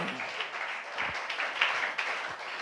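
A church congregation claps their hands during worship, a sustained patter of applause from a crowd, moderately loud with slight swells and no break.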